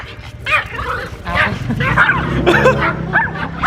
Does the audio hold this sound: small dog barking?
yes